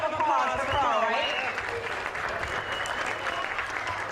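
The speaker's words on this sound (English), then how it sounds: "Huge round of applause for Carl" An audience at a charity classic event applauds a singer with sustained, dense clapping throughout, and voices talk and cheer over it near the start.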